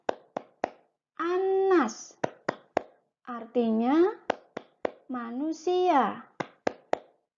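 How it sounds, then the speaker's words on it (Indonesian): Sharp hand claps in quick rhythmic bursts punctuate a teacher leading a children's clapping game in an online class, with her chanted Indonesian phrases filling the gaps between the claps. "Kita bermain tepuk dulu."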